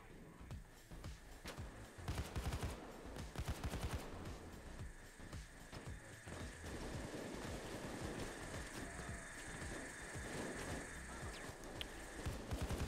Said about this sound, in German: ich schieße auf den Bulldozer